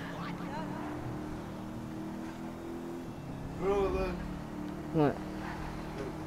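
Steady engine drone of a car being driven in Grand Theft Auto, a constant mid-level hum with harmonic layers, with a voice speaking briefly over it toward the end.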